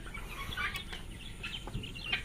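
Faint, scattered chirps and soft clucks from four-to-five-month-old guinea fowl chicks come and go over a low background hum, with no talking.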